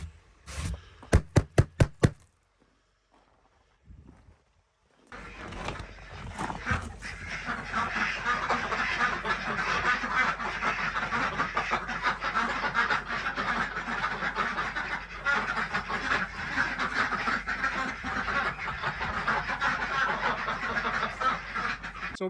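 Ducks quacking in a farm pen by their 30-foot run, a dense continuous chatter of many birds after a few sharp knocks and a brief pause, fairly close and steady throughout.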